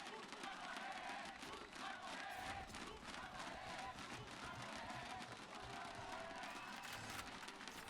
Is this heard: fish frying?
no